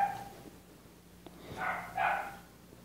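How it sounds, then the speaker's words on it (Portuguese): A dog barks a couple of times in the background, moderately loud yips following a quieter stretch of room noise. "Praga do cachorro vem latir logo na hora que eu vou gravar essa merda"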